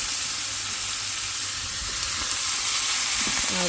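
Food frying in a pan during home cooking, a loud continuous close sizzle with a dense hissing texture that holds steady for the whole moment, no voices.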